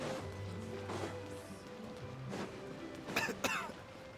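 Cyno, a video game character, coughing after running, a few separate harsh coughs and throat-clearing sounds spread across a faint background, the last two sharp and close together near the end.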